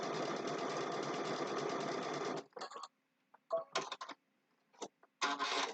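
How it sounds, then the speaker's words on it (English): Sewing machine running a blanket stitch, a steady loud whir for about two seconds, then short stop-and-start bursts separated by silences. "I'm going to stitch a little faster than I normally would"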